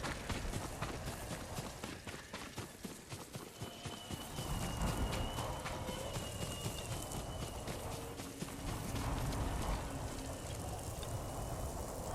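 Horse hooves clatter at a steady galloping pace in Ghost of Tsushima, loud and continuous across the whole stretch, with game ambience and faint tones layered over the running.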